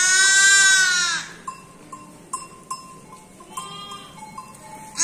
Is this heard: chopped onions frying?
no